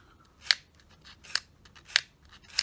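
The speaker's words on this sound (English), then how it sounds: "So we're just going to take a little bit of glass paper, it's 800 grade, and just" 800 grade glass paper rubbed lightly across a small copper part of a Dinky toy motor, heard as four short scratchy strokes spaced roughly evenly apart, close and crisp against near silence.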